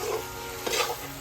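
Duck meat frying in a pan, heard as a brief, steady sizzle with a soft stir or scrape in the middle.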